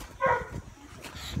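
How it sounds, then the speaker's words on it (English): A dog gives a short, high bark or yip at home, close and brief, followed by faint whimpery sounds mixed with people talking nearby. "My dog barks a lot"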